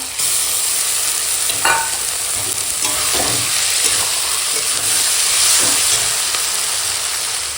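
Vegetables with potato and tomato frying in a pan as ginger-garlic paste is stirred in, giving a steady close sizzle and hiss with a few scraping stirs throughout, no talking.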